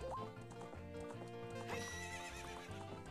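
Epona, the horse in Zelda: Ocarina of Time, gallops with steady clip-clop hoofbeats and a loud whinny partway through, set against the game's music, close and continuous.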